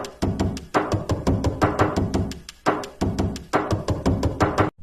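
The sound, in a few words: drum kit made from Minecraft door sounds, video game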